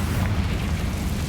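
A Confringo fire spell bursts in Hogwarts Legacy, a loud, close, booming blast with a rumbling low roar that fills the short moment.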